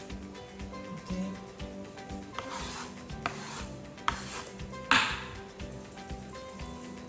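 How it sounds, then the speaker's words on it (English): Knife chopping onions on a cutting board for homemade salsa, a steady series of soft rasping, rubbing cuts close by with a few sharper knocks, no talking. "Cutting my onions."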